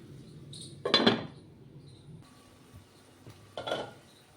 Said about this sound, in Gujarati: આપણે આને ઢાંકણ ઢાંકી અને પાકવા દેશું